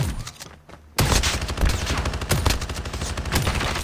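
Dense video-game gunfire, a rapid burst of repeated loud shots after a brief quieter lead-in, continuing steadily through the clip.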